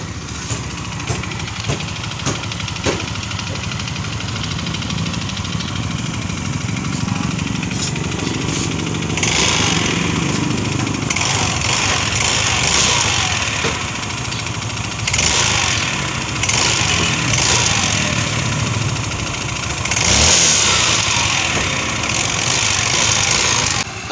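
A freshly overhauled Yamaha Mio MXI 125 scooter engine runs steadily at idle with a rough, rattling drone, close by and fairly loud, briefly revving up a few times.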